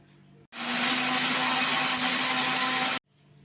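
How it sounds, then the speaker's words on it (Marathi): Kitchen mixer grinder blending spices with ginger-garlic paste for paneer butter masala, a loud whirring motor burst that starts abruptly, holds steady for about two and a half seconds, then cuts off. "आता हे सर्व मसाले आपण मिक्सरच्या भांड्यात वाटून घेऊया"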